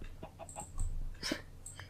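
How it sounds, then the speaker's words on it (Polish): A Minecraft chicken clucks in short, soft bursts inside a mine, a few quick fowl calls spread over a quiet background. "Nie kojarzę, żebym spotkała kiedyś kurę w kopalni."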